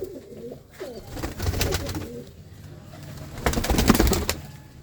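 Pigeons coo repeatedly from a backyard loft with pigeon coops, with soft broadband rustles and bursts that swell in the middle and near the end; no talk is heard.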